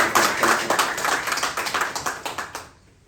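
Audience applause at a Quaid-e-Azam celebration in Barcelona, a dense burst of clapping that thins into scattered individual claps and fades out near the end.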